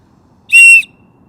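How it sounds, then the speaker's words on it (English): A small emergency whistle gives one short, shrill, piercing blast of about a third of a second, loud and close, with quiet before and after. "If you have these little whistles"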